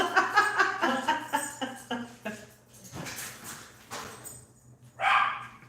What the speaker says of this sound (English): Every time she barks, my dog River comes and tries to see her on